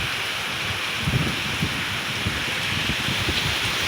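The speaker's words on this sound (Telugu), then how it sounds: "కుండపోత పోసేస్తుంది వర్షం" Heavy monsoon rain pours steadily in Pithapuram, Kakinada district, Andhra Pradesh, a dense continuous hiss with occasional low thumps of drops, no voices.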